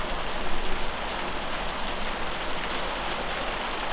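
Rain falling on an umbrella, a dense, steady hiss of drops pattering without pause, close and fairly soft, with no voices.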